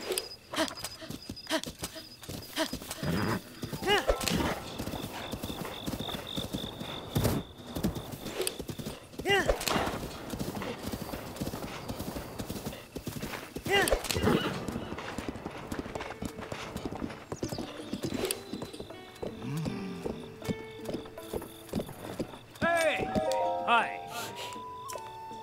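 A horse gallops in the video game The Legend of Zelda: Breath of the Wild, with steady clip-clop hoofbeats and a whinny, under continuous talking.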